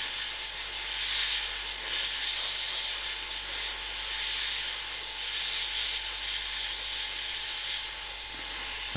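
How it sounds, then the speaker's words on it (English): An airbrush blows a steady blast of air over a model of the Magmic Battleforge for Fyreslayers, a constant close hiss holding evenly for the whole stretch with no pauses. "I'm just going to use a blast of air from the airbrush just to try and solidify this up a bit."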